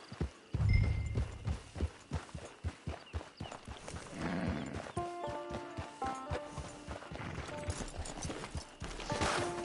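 Horse hooves clip-clop in a steady trotting rhythm in Red Dead Redemption 2, close and fairly loud, with brief snorts and music-like tones joining partway through.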